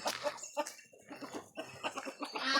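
Chickens released from their coop at a farm give a busy run of clucks and short squawks, irregular and overlapping, heard close and fairly faint.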